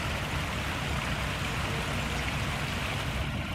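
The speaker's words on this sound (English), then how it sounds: "all of this water is running into the pond next to New Cut" Rainwater runs into a pond beside New Cut Road at Iroquois Park on a rainy morning, a steady, even rushing wash of water that stays constant throughout, with no voices.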